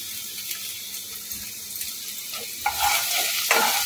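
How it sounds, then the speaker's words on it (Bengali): Chopped green chili, ginger and garlic frying in a pan while being stirred, an even hiss that swells in the last second with sharper scraping strokes and a louder sizzle, heard alone. "এটা একটু নেড়ে নেবো, 1 মিনিট সময় ধরে একটুখানি এগুলো নেড়ে নেবো।"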